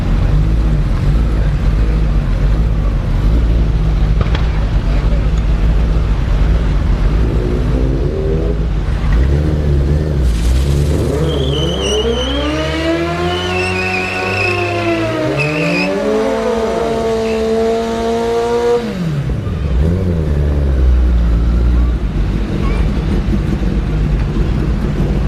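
Motorcycles drag racing at Orlando Speed World, engines screaming up through rising and falling harmonic sweeps as the bikes launch and pass, loud over a constant low crowd-and-track rumble.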